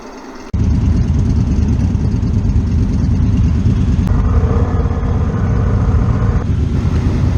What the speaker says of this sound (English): Everybody's starting their motors, and we're all going to line up